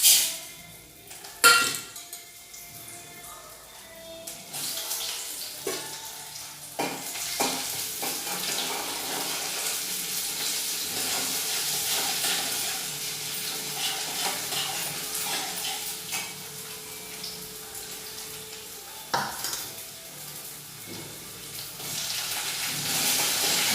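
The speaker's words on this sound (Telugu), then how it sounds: "పోపులు" Tempering spices, dried and green chillies among them, sizzle steadily in hot oil for a coriander-tomato chutney, a broad continuous hiss with brief clinks of a spoon or pan, close and alone without talk.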